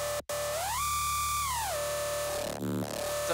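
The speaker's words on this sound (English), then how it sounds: "the dubstep bass and the FM bass." Dubstep synth bass blended with FM bass, a sustained buzzy tone that bends up in pitch, holds, then slides back down, with a brief growling wobble near the end.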